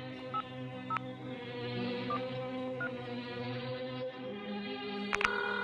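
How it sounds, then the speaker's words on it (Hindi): A telephone number being dialed to call the Qazi, a series of short keypad tones spaced irregularly over a steady background hum, ending with a quick double beep. "काजी साहब को फोन तू ही कर ले"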